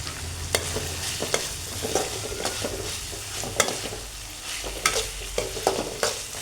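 Coriander frying in oil for tomato rice gives a constant close sizzle, broken by repeated sharp scrapes and taps of a spoon stirring in the pan, with no voices.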